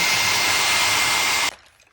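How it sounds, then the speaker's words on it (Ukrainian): A household hair dryer blows steadily and loudly for about a second and a half while heating glue on a shoe repair, then cuts off abruptly into near silence. "Далі, що використовуємо, це звичайний побутовий фен. Прогріваємо."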